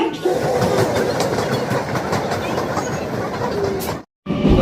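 A Down Krishnanagar City–Sealdah local train runs along the platform at Ranaghat station, a loud steady rumble with rhythmic clickety-clack of wheels over rail joints, then a brief cut to silence before the noise resumes.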